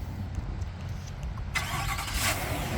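A 2024 Chevrolet Silverado 1500 Trail Boss with a 6.2-liter V8 cranks and fires up, a sudden burst of engine noise after a quiet stretch, close and fairly loud, settling into a rough idle.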